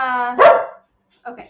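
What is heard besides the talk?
dog barking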